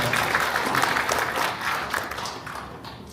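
A seated audience at a county governor's town visit gives a short burst of steady applause, fairly close and full, fading slightly toward the end.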